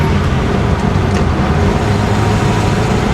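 A 1953 Pontiac Chieftain with a straight-eight engine driving on the road, a loud steady low rumble of engine and road noise filling the interior, constant throughout with no talking.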